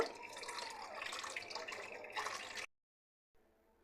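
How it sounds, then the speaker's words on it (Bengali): Water rinsing chhana (cottage cheese) for rasmalai, a close, steady splashing flow that runs for under three seconds, stops abruptly, then leaves a faint trickle. "পর্যায়ে আমরা ছানাটাকে ভালো করে ধুয়ে নেব"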